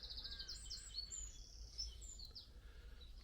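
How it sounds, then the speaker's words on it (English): Birdsong beside the River Eye at Upper Slaughter: several birds chirp and trill in bright overlapping phrases over a low steady outdoor rumble, with no talking. "Birds are singing."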